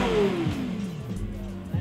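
A Lexus LFA supercar's 552-horsepower V10 gives a brief, loud rev that sweeps down in pitch as it falls back, with faint voices nearby.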